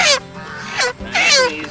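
Cornish Cross meat chickens squawk in three loud, close bursts separated by short pauses, with no talk over them.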